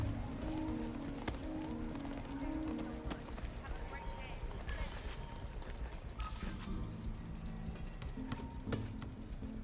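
In Spider-Man on PS4, a pigeon carrying a spider bot coos softly in a New York street, set among footsteps, city bustle and a voice talking.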